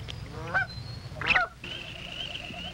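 Snow geese on Arctic coastal breeding grounds give several loud, close honks in short bursts, with a sustained tonal call and steady low background rumble between them.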